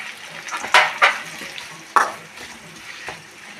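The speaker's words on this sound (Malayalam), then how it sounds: "ഒന്നര സബോള നേരിയതായിട്ട് അരിഞ്ഞു വെച്ചിട്ടുണ്ട് അത് നന്നായി വഴറ്റണം" Thinly sliced onions are stirred and sautéed in a pan for chicken curry, with soft frying and a few close scrapes of a spoon against the pan. No one talks.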